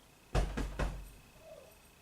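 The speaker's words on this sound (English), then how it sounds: "that's my cat I'm hearing under there" A cat moving around under furniture indoors gives three quick, faint knocking bumps in a row, followed by quiet rustling and near silence.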